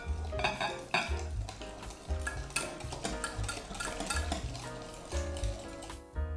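Egg yolk, soy milk and oil being stirred in a bowl for a soy milk cake roll batter, with rapid rhythmic whisk clatter against the bowl in quick repeated bursts, close and busy, with no voices.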